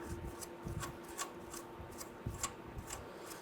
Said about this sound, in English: we're going to remove the nut off of our lower ball joint here using a 15/16. Let's go ahead and loosen